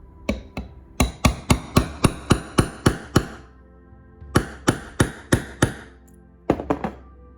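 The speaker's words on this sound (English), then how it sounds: "I'm just gonna apply a little tap in the center here with a hammer" A hammer taps the metal nub of a LEMAX Spooky Town Halloween village figure, giving a steady run of about a dozen sharp, close metallic knocks, a pause, then another quick burst and a final pair.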